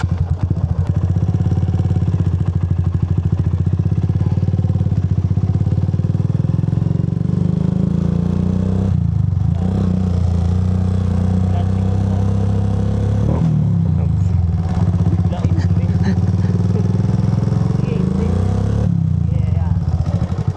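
A motorcycle engine runs the whole time close by during a riding lesson, a loud low idle that rises and falls with throttle blips and clatter, while people talk over it.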